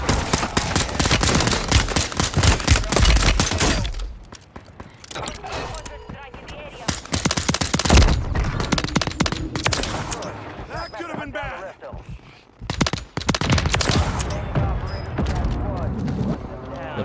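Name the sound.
gunfire in video game Call of Duty Modern Warfare III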